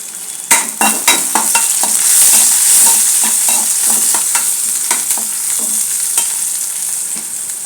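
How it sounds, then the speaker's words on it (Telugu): Ginger garlic paste fries in hot oil in a pan with a loud, steady sizzle, while a spoon scrapes and taps against the pan in quick, close strokes. "అల్లం వెల్లుల్లి పేస్ట్ వేస్తున్నాను."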